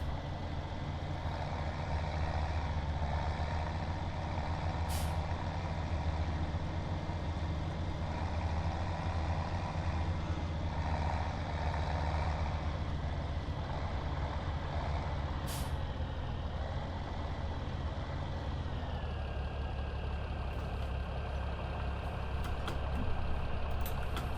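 A 1255 tractor engine running on a dairy farm in a farming simulator game, a steady low rumbling drone throughout, with brief hissing bursts of air release and a faint rising whine near the end.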